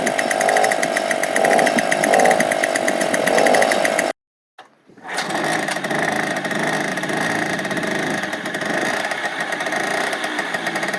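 A small two-stroke moped engine runs steadily with a buzzing, raspy drone, cutting out briefly and then catching again to keep running loud and close.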